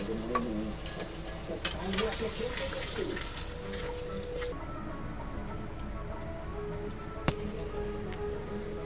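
Kaleji masala simmers and boils in a pan, giving a steady, close bubbling and hissing with a few sharp clicks of utensil or lid.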